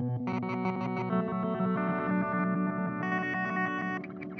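An electric guitar runs through a Meris LVX pedal in pre and dry mode, giving a fully wet signal; chords ring with distortion, chorus and echo, bright and sustained, with no talk.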